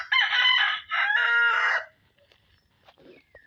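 A native fighting rooster crows loudly and close by in two strained phrases, just after rain has stopped, followed by faint clucks and quiet farmyard noise.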